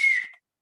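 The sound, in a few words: boatswain's whistle being blown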